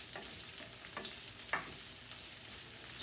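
Zucchini sauce for linguine sizzles and fries in a frying pan, a steady soft crackle with a few brief stirring scrapes, fairly quiet and close, with no talking.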